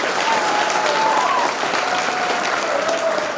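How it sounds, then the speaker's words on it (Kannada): Loud, sustained applause from an alumni audience of a high school's 1997-98 batch at a reunion program, a thick, continuous roar of clapping with a faint tone running through it. "ಎಲ್ಲರೂ ಜೋರಾದ ಚಪ್ಪಾಳೆ."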